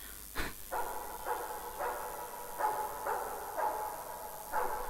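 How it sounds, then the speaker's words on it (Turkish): A dog barks repeatedly in the horror video game Five Nights at Freddy's, about eight short, evenly spaced barks over a low steady background hum, with no voices. "Ya madem köpeğimiz var,"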